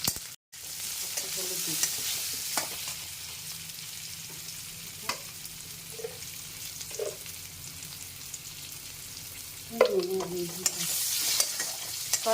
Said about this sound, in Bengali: আলুগুলো একটু ভাজা হবে।